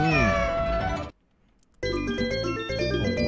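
A cat in the Super Famicom fishing game Umi no Nushi Tsuri gives loud, close electronic meows, one before and one after a brief silence, set against game music.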